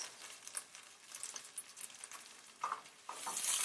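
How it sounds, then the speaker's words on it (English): Caramelized onions are stirred into beans in a pan, giving a soft, intermittent sizzle with light scraping and clicking stir sounds that swell louder toward the end. "we are going to add the caramelized onions to the beans, like that"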